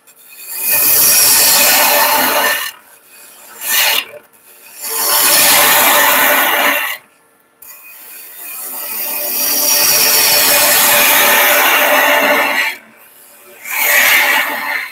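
Bowl gouge cutting wood on a spinning lathe, loud rough scraping passes of two to five seconds each, broken by brief pauses between cuts.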